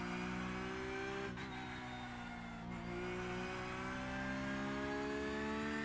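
A race car engine in the iRacing sim drones steadily at high revs, its tone climbing slowly with two brief dips as if lifting for gear changes, loud and continuous with no talk.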